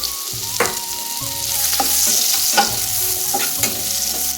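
Chopped onions tipped in a generous heap onto fried nigella seeds and minced garlic, sizzling steadily in a hot frying pan while a utensil scrapes and stirs in repeated sharp strokes, close and clear with no talk.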